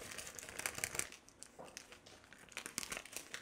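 Yeast packet crinkling and rustling as it is opened with scissors in a kitchen while making hotteok, with scattered crisp crackles and small snips, close but quiet.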